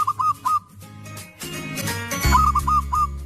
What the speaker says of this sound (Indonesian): Jenis burung perkutut Jawa dikenal memiliki suara yang merdu.